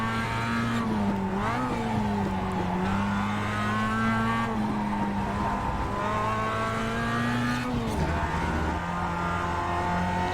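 A race car in the iRacing sim pulls a steady, loud engine note that rises and falls through gear changes, with tire squeal and revving as it carries speed through corners over roughly ten seconds.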